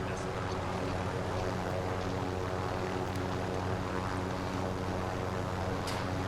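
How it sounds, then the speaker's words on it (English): Helicopter engine and rotor running steadily close by, a dense continuous mechanical roar with a low throbbing hum that stays level and unbroken throughout. "make your way to the helicopter"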